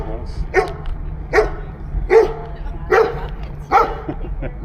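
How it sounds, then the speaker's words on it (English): A big dog barks from nearby during a late-afternoon trail ride in southeast Irvine, five evenly spaced, fairly loud barks over steady outdoor background noise. "Big dog."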